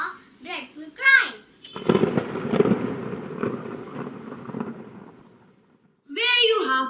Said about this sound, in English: The thunder crashed outside the house